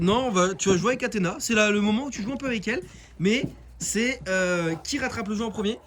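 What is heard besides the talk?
None of the usual background noises is heard.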